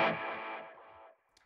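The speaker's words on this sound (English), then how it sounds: "let's add delay first" A distorted guitar note through a Tone King Imperial MKII amp with delay added rings out loud and then decays, with a faint repeat trailing near the end.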